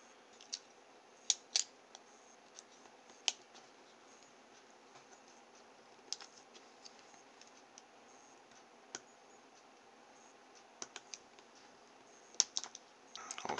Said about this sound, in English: So I shall cut this heat shrink off and have a look inside.